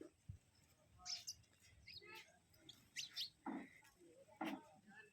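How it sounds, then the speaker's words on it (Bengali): Sparrows chirp in a park, short scattered tweets near and far over a quiet outdoor background, faint overall with some brief rustles between calls. "চড়ুই পাখি।"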